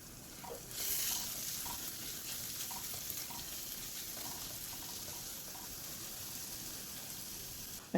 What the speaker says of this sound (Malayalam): എല്ലാം ഇട്ട് കൊടുത്തൊന്ന് ഇളക്കി കൊടുക്കാം.